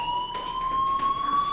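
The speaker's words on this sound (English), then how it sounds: "Hey, do you hear that fire alarm?" A fire alarm in the video game Life is Strange rings as a steady high electronic tone, continuous and fairly loud, with faint background ambience and no talking.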